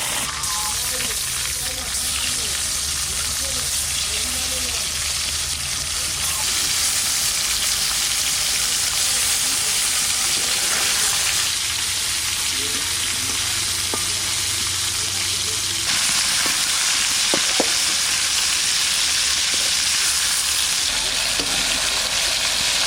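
Pieces of Baush fish, a large rohu-type carp, fry lightly in hot oil, with a loud continuous sizzle and crackle and some stirring noises throughout.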